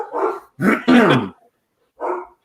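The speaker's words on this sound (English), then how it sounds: "my dogs, sorry" Dogs bark indoors in a few sharp, close bursts, two quick barks followed by a pause and one more.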